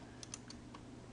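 A few light key clicks on a computer keyboard as Ctrl and C are pressed together to copy a shape while working in a LibreOffice Writer document, quiet and close with no voices.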